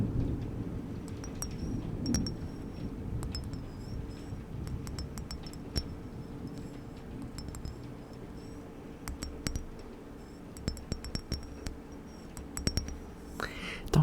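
Low, rolling thunder from a storm rumbles faintly in the distance, with soft whispering and small handling clicks close by over it.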